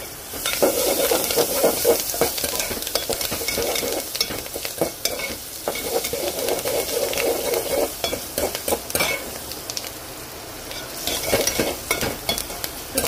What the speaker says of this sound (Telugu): వేగింది కదండి ఉల్లి గార్లిక్ వేగింది